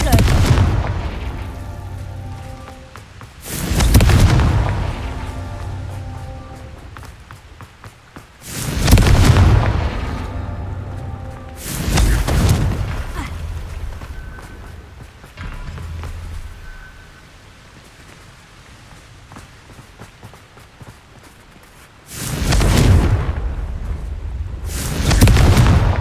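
Fire spell explosions cast in the video game Hogwarts Legacy, five heavy booming blasts landing at irregular intervals, loud and close, with a rumbling game soundscape between them.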